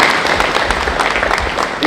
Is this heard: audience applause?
yes